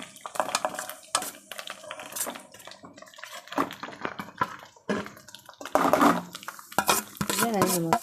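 Beetroot fry is stirred in a pan at home, with irregular bursts of metal spoon scraping and clatter against the pan, close and fairly loud. A voice is heard briefly near the end.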